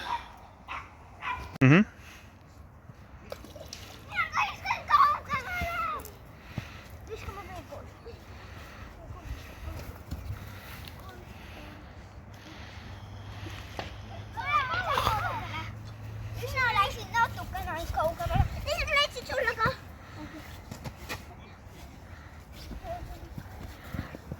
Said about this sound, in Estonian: Mingid kohalikud inimesed on tulnud koertega ujuma.